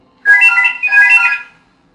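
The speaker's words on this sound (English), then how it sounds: "What's ringing over there?" A phone ringtone plays a bright electronic melody in two bursts, loud and close, standing alone in an otherwise quiet room with no talk.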